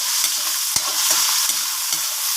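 Onion, tomato and ginger sauté in a hot pan with a loud, steady sizzle, cut by a sharp knock and several short scraping stirs.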